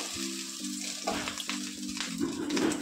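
Oil-coated eggs dropped into a pan of lightly heated oil, sizzling and spitting close up, with steady crackling that grows busier toward the end.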